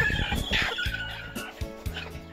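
Several chickens clucking on a backyard farm with egg-laying hens and a turkey nearby, close and busy, a few sharp calls over steady low clucks and scratching.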